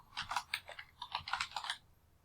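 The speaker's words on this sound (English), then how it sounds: "And you want to type in purpose" Quick bursts of keystrokes on a computer keyboard, close and quiet, about a dozen clicks in an uneven rhythm before falling silent.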